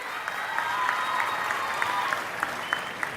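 Audience applause at a school parent-teacher meeting, a steady wash of clapping with a few sharper claps standing out, moderately loud and continuous with no talk over it.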